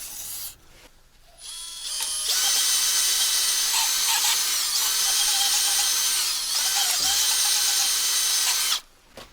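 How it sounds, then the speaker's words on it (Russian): Makita power drill spinning a rag soaked in carburetor cleaner to clean the injector wells of a Kamaz 4310 truck engine, a loud high-pitched whine that holds steady for several seconds after a short start, then stops. "Просто на Макиту накрутил тряпочку вместе с очистителем для карбюраторов."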